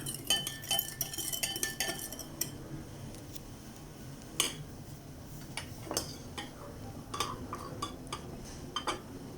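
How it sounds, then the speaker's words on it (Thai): A spoon clinks and scrapes against a bowl while stirring a lime, sugar and seasoning sauce for steamed tilapia, with close, irregular metallic taps and a steady faint stirring rustle and no talk. "ผสมกัน คนให้น้ำตาลละลายนะคะ"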